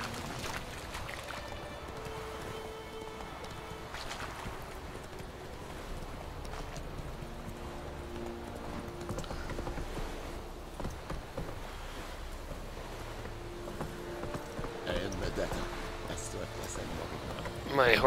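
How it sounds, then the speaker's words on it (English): A horse's hooves clip-clopping in The Witcher 3: Wild Hunt, a steady moderate rhythm under game music and occasional talk, with a louder clatter near the end. "My horse is kind of stuck, so I'm just gonna park it right here."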